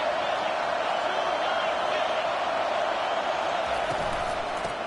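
Stadium crowd at an NCAA 25 college football video game matchup against Arkansas, a constant broad roar of cheering spectators throughout, with a commentator talking over it.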